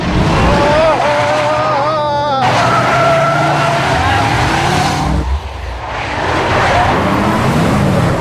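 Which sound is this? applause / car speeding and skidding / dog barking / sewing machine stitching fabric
car speeding and skidding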